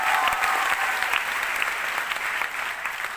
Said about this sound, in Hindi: जोरदार तालियां होता है